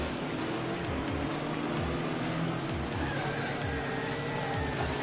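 Toy racing car on drift wheels in Table Top Racing, engine whine steady and close with repeated rising pitch sweeps and a faint squeal, continuous throughout.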